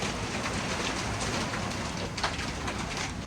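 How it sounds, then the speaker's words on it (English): Hail and wind over 40 knots batter a Leopard 45 catamaran in a dense, continuous hiss of pelting ice and rain, loud and unbroken, with occasional sharper impacts standing out. "We're getting smashed by hail and strong winds over 40 knots."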